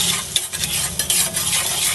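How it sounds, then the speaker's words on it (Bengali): Vegetables dusted with salt and red chili powder are stirred and fried in a pan over low flame, a steady close sizzle broken by scraping strokes. "আমার সবজিগুলো বেশ ভাজা ভাজা হয়ে গেছে।"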